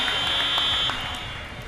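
Halftime buzzer at a women's basketball game in Southeast Asia, a loud steady electronic tone sounding for under a second over crowd noise, then cutting off.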